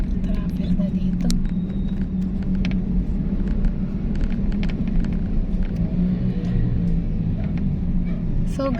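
Constant low rumble of vehicles moving through traffic in Porac, Pampanga, Philippines, with occasional sharper clicks and knocks, while voices talk over the engine drone.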